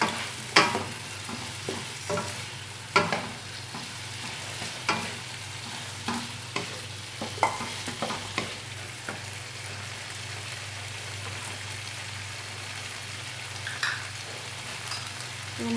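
Vegetables, including baby corn for a beef paprik, stir-fry in a pan with a constant sizzle, punctuated by scattered scraping clicks of a utensil tossing the food.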